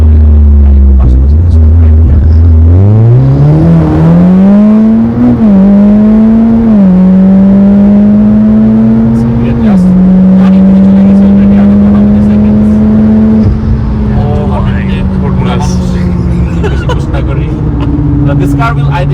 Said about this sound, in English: This car will, I think, do 260-ish in less than 10 seconds from where we're starting.